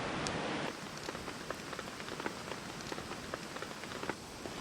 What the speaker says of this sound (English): Yeah, it is coming down. It's nice light rain, but it is doesn't seem to want to stop.